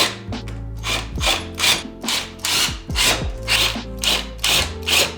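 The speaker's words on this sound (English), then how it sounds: "let me go ahead and put the self-tapping screws in" A power driver sinks self-tapping screws into a carbon-fibre front lip on a BMW M3 F80, giving repeated short whirring bursts with rubbing grind, close and loud, alone without speech.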